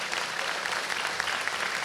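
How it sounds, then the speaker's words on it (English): Sustained audience applause for the Planet Coaster game development team at a panel event, a dense, steady wash of clapping hands lasting throughout without any voices standing out. "a big warm round of applause for the Planet Coaster team."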